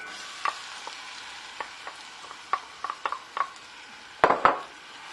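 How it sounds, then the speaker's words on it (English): Onion sautéing in melted butter and oil in a hot pan for glazed ribs: a soft frying hiss under scattered utensil clicks and scrapes of stirring, with a louder burst of scraping near the end. "And saute that. Stir it up, let it saute until it softens up really good."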